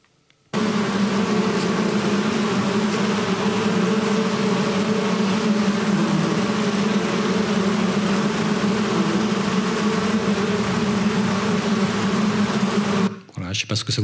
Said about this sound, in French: Je vais vous faire écouter un bourdonnement d'insectes